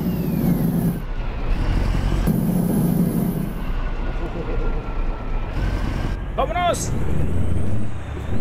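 Kenworth W900 truck engine working along a wrecked, abandoned mountain road in Chihuahua's Urique Canyon, a steady loud rumble running throughout, with a voice calling out briefly near the end.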